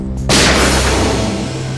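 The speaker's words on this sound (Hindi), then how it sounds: "गोली चलने की आवाज इस तरफ से" A single loud gunshot close by in a TV crime drama, with a long, rumbling echo trailing after it.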